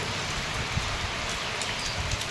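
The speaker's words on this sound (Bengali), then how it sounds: "সারাদিন মুষলধারে বৃষ্টি" Heavy rain pours down steadily, a dense, loud hiss of drops drumming on surfaces with no pauses.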